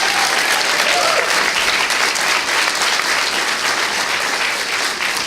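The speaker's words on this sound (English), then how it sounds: "So let's do we do a round of applause." An audience at the FameLab Ireland science communication final breaks into a round of applause, loud, dense clapping sustained evenly from start to finish, with a faint murmur of voices mixed in.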